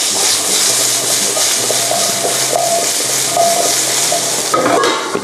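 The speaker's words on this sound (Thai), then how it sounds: "ผมให้มันเป็นรอยบราวน์นิดๆนะฮะคั่วไปเลย" Pork chop searing in a hot pan for a pork steak, a loud, dense, continuous sizzle heard up close with occasional crackles and a brief clatter near the end.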